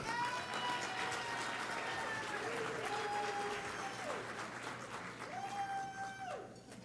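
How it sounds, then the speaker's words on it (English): Audience applause at a symposium lunch greets a speaker, a quiet, distant patter of clapping held steady under music-like tones and a faint voice. "Please give a big round of applause"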